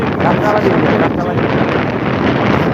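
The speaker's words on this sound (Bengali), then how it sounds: "অনেক বাতাসের শব্দ হ্যাঁ ভাই যেহেতু আমরা ভোল্টারে আছি" Strong wind buffets the microphone in a loud, continuous rumbling roar for the whole stretch, with no break or letup.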